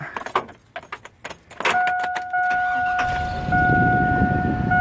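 Keys jangle in quick metallic bursts, then a 2002 Chevrolet Avalanche Z71 engine cranks and catches, settling into a steady idle with a faint electronic chime tone overhead.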